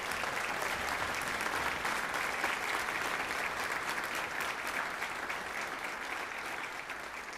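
A concert crowd claps steadily and continuously, a dense wash of applause that fades slightly toward the end.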